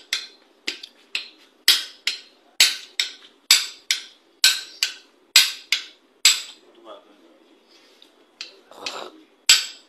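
A hammer pounds the back of a knife blade to cut through a very large fish, giving about fifteen sharp, close metallic strikes in a fairly steady rhythm, with a short pause and a few lighter knocks near the end.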